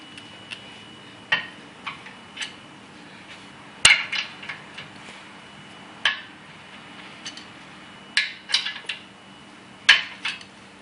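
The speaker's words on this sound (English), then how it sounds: "I'm using a breaker bar to undo these two bolts right now" A breaker bar working loose the bolts of a car's rear suspension while fitting MeganRacing coilovers to a 2011 Scion tC gives sharp metallic clicks and knocks, spaced irregularly over a steady low hum, with no talking.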